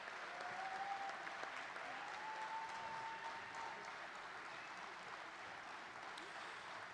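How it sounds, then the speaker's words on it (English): Steady, dense audience applause fills an induction ceremony hall, sustained at an even level throughout with no break. "let's give this amazing class one more big round of applause"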